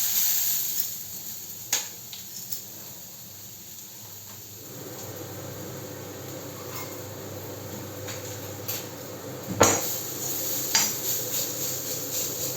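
Ridge gourd peel fries in a pan with a steady low sizzle, joined by occasional sharp scrapes and clinks of a utensil against the metal, one louder knock near the end.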